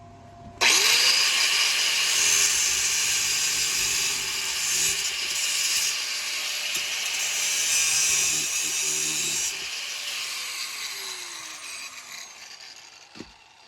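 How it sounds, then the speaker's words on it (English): Angle grinder with a cut-off wheel slicing through a piece of metal, a loud steady high whine and grinding screech running about nine seconds before winding down, with no talk. "I'm gonna cut a piece of metal off here."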